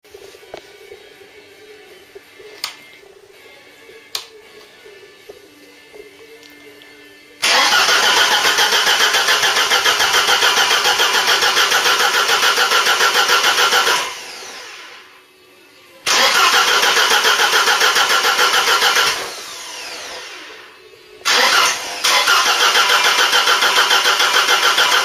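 A Ford Cortina Mk3 under restoration cranks and fires, then runs loudly and steadily at close range with a short stall in the middle, restarting and carrying on running, with no talking.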